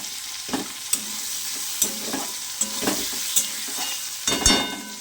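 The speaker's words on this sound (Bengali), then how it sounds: "বেশি আমি ভাজবো না এই পেঁয়াজটা, বেশি ভাজলে অসুবিধা আছে" Onions fry in a pan until browned, for a mustard fish curry, with a steady sizzle broken by sharp scraping stirs of a spatula at irregular intervals, close up and with no voices.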